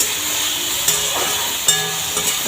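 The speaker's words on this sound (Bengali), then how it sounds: "আমি হালকা জাস্ট হালকা ভেজে নেব এটাকে ভাজা না বলাই চলে জাস্ট একটু তেলেতে" Shrimp fries lightly in a little oil, a constant bright sizzle and hiss with a couple of soft stirring clicks, close and fairly loud.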